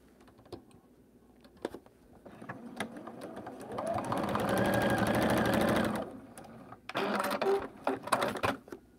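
A sewing machine stitches quilting cotton for a zipper pouch, with scattered clicks and handling taps around a steady burst of running stitches lasting about two seconds, then a shorter burst.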